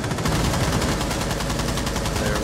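Rapid, continuous gunfire rattles loud and close throughout a shootout in a multiplayer shooter game, dense bursts running without pause.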